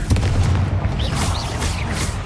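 The Confringo fire spell explodes in Hogwarts Legacy with a loud booming blast and a crackling, fiery tail across the short clip, with no voices.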